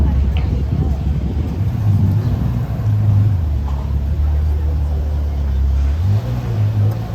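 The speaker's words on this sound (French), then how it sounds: "Un autre V12 vient d'arriver avec cette GTC4 Lusso volant à droite" A right-hand-drive Ferrari GTC4 Lusso with a V12 arriving on a Monaco street, its low engine rumble rising and easing as it moves past at close range, with voices talking over it.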